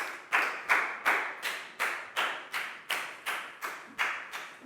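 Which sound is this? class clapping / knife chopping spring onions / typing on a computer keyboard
class clapping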